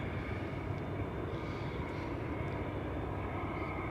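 A UPS Boeing 747-8 freighter produces a steady, distant jet roar that holds at an even level throughout, with no voices.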